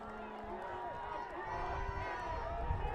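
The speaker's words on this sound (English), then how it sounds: "Crowd getting loud here now, showing their support for the defense" A football crowd cheers for the defense, a broad roar of voices and noise building steadily, with a brief tone at the start and constant hubbub throughout.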